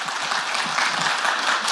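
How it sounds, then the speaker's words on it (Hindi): Dense, steady applause from a large audience welcomes Uttar Pradesh BJP president Swatantra Dev Singh on stage at a political forum, loud and unbroken throughout. "तालियों से स्वागत करिए"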